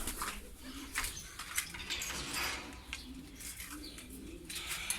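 Pigeons released from a loft coo and flutter in a steady, close chorus, with soft low calls repeating over a continuous rustle and scattered chirps throughout.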